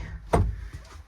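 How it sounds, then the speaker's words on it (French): A single close, solid thump of the cabin door shutting inside a 1980 Notin 360 camper built on a petrol Citroën C35, with a short rattle trailing after. "Là, vous avez une porte qui peut se fermer."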